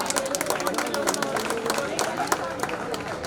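An audience at an SSC batch school reunion at ZPHS Undavelly claps in a scattered burst of applause. A voice talks loudly over the clapping throughout.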